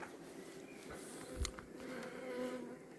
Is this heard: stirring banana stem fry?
no